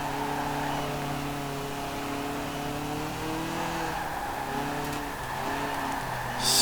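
Modified car engine in Forza Horizon 4 drones loudly and steadily with rising and falling revs through gear changes, close and continuous, with a brief tire squeal near the end.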